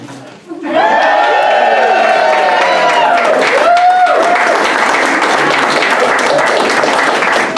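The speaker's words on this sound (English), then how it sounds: "Thank you for the applause and support." A crowd breaks into loud, sustained applause at a school ribbon cutting ceremony for a new STEAM building. Cheering voices rise over the clapping at the start, and the applause then continues as a dense, steady roar.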